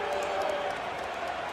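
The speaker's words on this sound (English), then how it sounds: "Crowd making noise." Football stadium crowd at a Penn State game, a steady broadband roar of many voices holding at an even, loud level throughout with no break or distinct calls.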